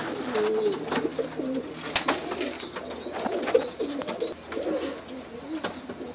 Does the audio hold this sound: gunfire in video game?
no